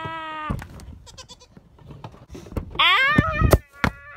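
A goat bleats several times at close range, with long wavering cries at the start and again near the end, mixed with scuffling and a person's exclamations.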